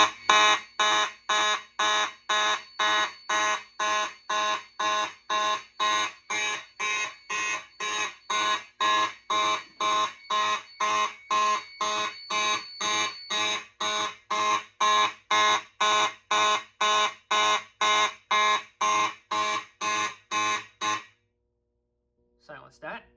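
A Simplex 2903 fire alarm horn sounds during a demonstration of a Notifier NFW-50 fire alarm panel, giving loud, rapid, evenly spaced blasts for about twenty seconds before it is silenced.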